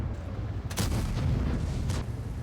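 Heavy cannon fire from tanks in a video game: a deep, booming shot with a rumbling tail over constant battle noise, followed by a second fainter report.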